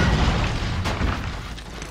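A frag grenade going off in a military shooter video game, a single loud, deep boom at the start that rumbles and slowly fades over the next two seconds.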